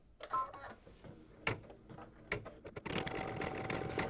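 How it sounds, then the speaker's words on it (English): A sewing machine stitching a mug rug, heard as quiet irregular clicks and short mechanical taps that settle into a steadier whirring run near the end, close and faint. "so let's go ahead and stitch this."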